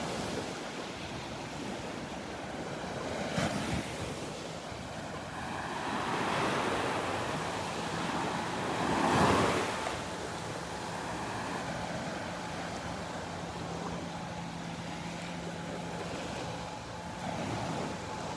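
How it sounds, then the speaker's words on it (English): Steady ocean surf washing onto a beach by the Naples Pier, a continuous broad roar with swells rising and falling, plus some wind rumble; no voices. "Just let you enjoy the sound of the waves here for a minute."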